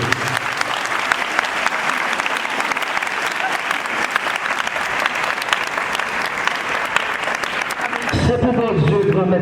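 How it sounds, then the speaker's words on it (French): Group applause given in rounds, a dense, steady wash of clapping lasting several seconds before it breaks off and a voice starts speaking. "On a fait 3 applaudissements pour eux"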